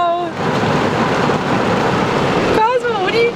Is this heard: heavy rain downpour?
yes